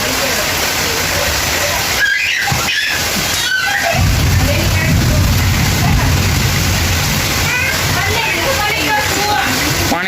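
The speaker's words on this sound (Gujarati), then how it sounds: "ધબધબાટી બોલાવે પવન ને વરસાદ" Loud, continuous rush of heavy rain and gusting wind, a dense hissing roar with a few brief breaks and rustling knocks.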